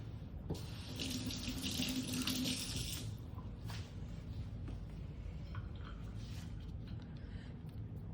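A kitchen faucet runs into the sink as fingers are wetted while shaping peach hand pies, the water loud and splashy for the first few seconds, then settling into a softer, steady trickle with small drips.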